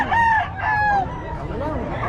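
A rooster crows nearby in a rural yard, one clear cock-a-doodle-doo call, while other chickens cluck and people talk quietly in the background.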